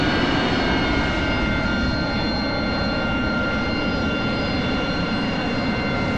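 An AV-8B Harrier jet engine in the DCS flight simulator runs steadily at a taxi, a loud continuous roar with a high whine held evenly throughout, no voices.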